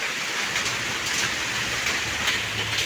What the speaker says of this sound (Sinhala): මෙන්න මේ තරමේ පුංචි අයිස් කැට තමයි වැටුනේ